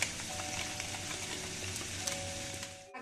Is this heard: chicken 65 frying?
yes